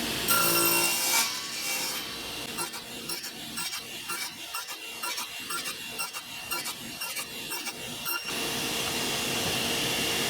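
A hand saw cuts wood in a quick, rhythmic run of rasping back-and-forth strokes, close and loud, then stops, while building wooden architect's trestles.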